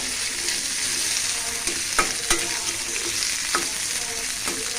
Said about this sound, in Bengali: এটা এখানে পেঁয়াজ, কাঁচামরিচ, রসুন তারপরে আমি ভাজা নিলাম, ভাজা নিব আর কি, ওইগুলো ভাজবো, একসাথে ভাজবো